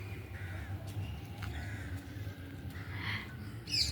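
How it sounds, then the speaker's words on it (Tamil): Crows caw outdoors in cold hill country beneath rain clouds, a few short harsh calls breaking through near the end over a steady, noisy wind-like background. "பறவைகள்லாம் வர ஆரம்பிச்சிட்டாங்க."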